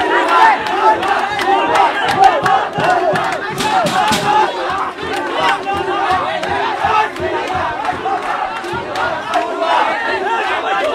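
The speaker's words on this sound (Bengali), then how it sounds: "স্লোগান দিচ্ছে" A large protest crowd at Mahbubur Rahman Mollah College chants slogans in unison, a loud, dense mass of voices with rhythmic shouted phrases rising and falling continuously, close and overwhelming.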